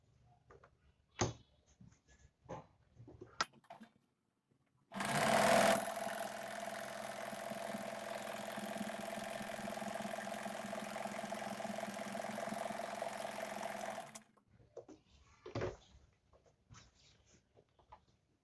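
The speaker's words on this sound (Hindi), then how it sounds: "तो चलिए इनमें सिलाई लगा लेते हैं।" A sewing machine stitches the seat seam of a pair of ladies' straight pants, running in one steady whirring stretch of about nine seconds between quieter handling sounds.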